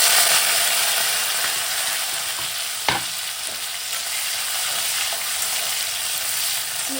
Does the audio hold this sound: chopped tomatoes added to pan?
yes